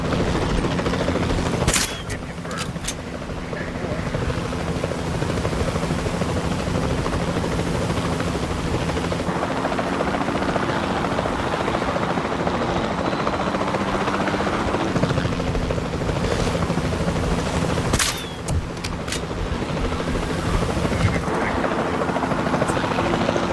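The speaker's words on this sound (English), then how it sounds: "Then the sensible thing is to take a capture team helicopter." A capture team helicopter in Jurassic World Evolution 2 gives a loud, continuous rotor roar and whir. A couple of sharp cracks, like tranquilizer shots, break through it, and no one speaks.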